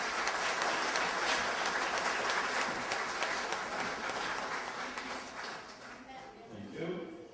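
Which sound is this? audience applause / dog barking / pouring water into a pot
audience applause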